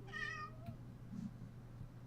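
A house cat gives one clear, close meow, followed by quieter low rustling and a faint steady hum.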